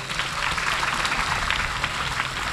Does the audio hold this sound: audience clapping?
yes